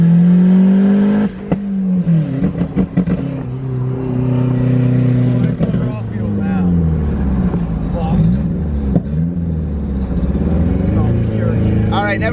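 A turbocharged Mazda Miata engine revs hard through pulls, a loud droning note climbing and dipping in pitch from inside the car, with a voice talking over it.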